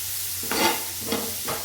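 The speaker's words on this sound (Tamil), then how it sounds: "நல்லா இந்த தக்காளியும் சேர்த்து இந்த வெங்காயம் எல்லாம் பச்சை வாசம் போக நல்லா வதக்கி விட்டுக்கலாம்" Onions and tomatoes sautéing in a pan over a low flame, three quick stirring scrapes over a soft steady sizzle.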